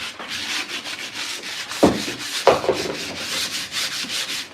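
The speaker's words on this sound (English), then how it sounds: "people don't really like the sanding sound" Rhythmic back-and-forth sanding across a wooden cabinet during a makeover, steady rasping strokes close by with two heavier knocks partway through.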